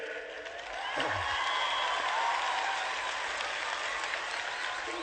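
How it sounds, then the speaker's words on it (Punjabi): Sustained audience applause for a boy at a live comedy show, a dense wash of clapping that swells after the first second and holds steady, loud and close, with faint cheers mixed in. "ਮੁੰਡੇ ਦੀ ਲਈ ਜ਼ੋਰਦਾਰ ਤਾਲੀ ਇੱਕ ਵਾਰੀ ਖੁੱਲ ਕੇ ਹੋ ਜਾਣਾ"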